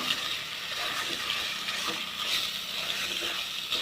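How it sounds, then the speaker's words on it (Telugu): Chicken pieces fry in oil, a steady close sizzle and crackle with faint stirring movements throughout and no voices. "ఆయిల్లో వేసేసుకొని ఆయిల్ అంతా వాటికి పట్టాలని చెప్పేసి నేనైతే అంత చికెన్ వేసేసుకున్నాక"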